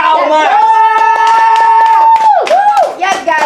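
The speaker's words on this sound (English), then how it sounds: "I like the way you clapping. Just clap that way." Rhythmic group clapping keeps a steady beat beneath a loud, sustained, tonal voice that holds one long note before dipping and rising.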